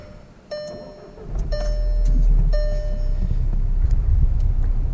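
A VW MK6 2.0 TSI engine cranks briefly with a few high whining chimes, then catches and settles into a steady, fairly loud idle that carries on alone.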